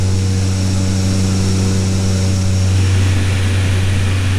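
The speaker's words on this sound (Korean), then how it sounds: "네팔 카트만두에서 쿵부 히말라야로 향하는 작은 비행기야." A small propeller plane flies from Kathmandu toward the Khumbu Himalaya, its engine droning loud and steady throughout, heard from inside the cabin with no talk.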